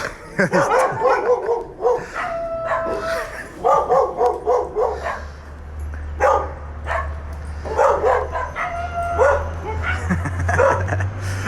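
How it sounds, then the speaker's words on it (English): Several dogs bark in repeated bursts near a Rockaway Beach street in Queens, loud and persistent over a low steady hum, with someone talking between and under the barking. "these dogs are going nuts"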